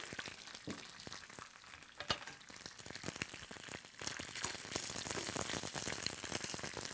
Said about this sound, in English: I love the sound of hearing it sizzle.